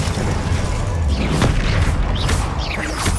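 The Depulso spell is cast in the Hogwarts Legacy video game, giving a loud, dense booming burst with rushing whooshes over a constant rumbling game backdrop.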